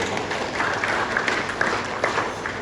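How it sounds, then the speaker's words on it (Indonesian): A crowd at a cultural welcome event applauds an army general, with dense, steady clapping filling the space at a fairly loud level and no voices rising above it. "Kita kasih aplaus buat Pak Jenderal."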